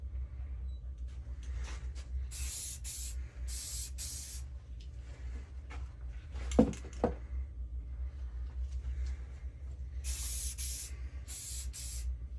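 A spray can lays a light first coat of paint onto a Nintendo DS shell in short bursts of hissing spray, near and alone over a low steady background hum.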